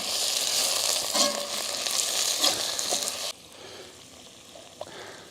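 Onions sizzling hard in hot oil in a pan over a campfire, a loud, close, steady frying hiss that drops suddenly to a quieter crackle partway through, with a few faint knocks of stirring.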